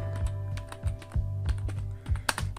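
Fingers typing a channel name on a computer keyboard, a run of quick, close key clicks at an uneven pace over a steady low hum, with no talk.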